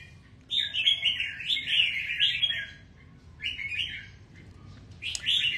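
Caged songbird chirping in bursts of bright, rapid trills, close and clear, with short pauses between phrases and a faint low room hum underneath.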